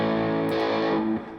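Electric guitar played through the distortion effect of a Line 6 Pod Express, a thick sustained distorted chord ringing loud and alone before fading at the end.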